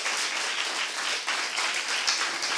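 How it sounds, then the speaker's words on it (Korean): A church congregation at a Saturday worship service claps hard at the pastor's urging, a dense, even wash of many hands that carries on without a break, with no voices heard over it. "박수 세게 쳐요."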